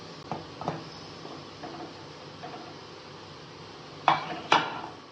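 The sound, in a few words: closing pressure cooker lid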